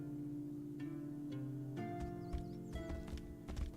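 A horse's hooves in the fantasy video game Tainted Grail: The Fall of Avalon clop faintly beneath steady tonal game music, with a bird call or two and no talk.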